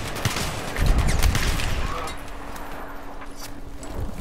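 A Saiga 12K shotgun firing frag rounds in Battlefield 3 during a team deathmatch: several quick, punchy shots cluster in the first second and a half, then die back to quieter battlefield ambience, with a voice talking over it.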